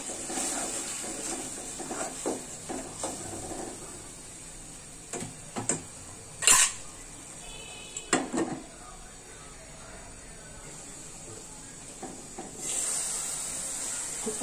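A spice paste sizzles and hisses softly as it is sautéed in a pan while making a Bengali fish and vegetable curry, with scattered scraping clicks of a spatula and brief louder bursts of frying.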